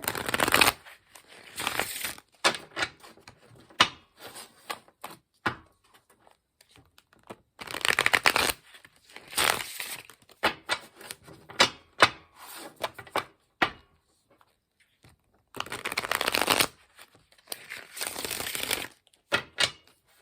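Tarot cards being shuffled and riffled in bursts of crisp flicking and rubbing, with short pauses between rounds and quieter handling noises in between.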